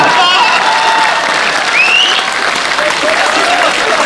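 Steady applause from a crowd at a Hindi comedy poetry gathering (kavi sammelan), continuous and dense throughout, with a few whistles and cheers rising over the clapping.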